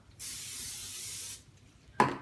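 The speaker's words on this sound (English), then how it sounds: "then you're going to spray a bowl, grease a bowl up" Cooking spray greasing a bowl: one steady aerosol hiss lasting about a second, then a short sharp spurt, close and clear with no talk.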